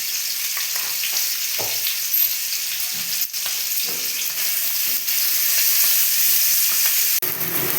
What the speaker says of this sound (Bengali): আলুগুলো ভাজা হয়ে গেল